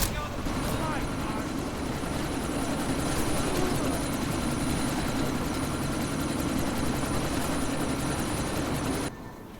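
Helicopter in the video game Deus Ex: Mankind Divided, a steady, loud rotor and engine drone sustained throughout amid sandstorm noise, cutting off abruptly near the end.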